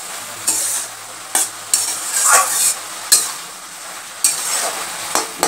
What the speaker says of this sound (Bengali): ঢাকনাটা উঠে নিচ্ছি, নাড়িয়ে দেবো